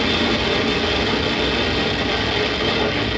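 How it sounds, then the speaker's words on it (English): A SpaceX rocket's engines roar just after liftoff. The sound is a continuous, dense, loud rumble with no breaks and no voices. "Ignition and liftoff."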